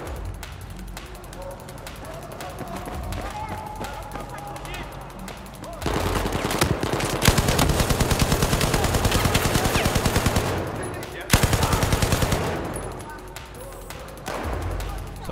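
Rapid automatic gunfire in Battlefield 4, loud sustained bursts with short pauses, mixed with game ambience and a voice talking between volleys.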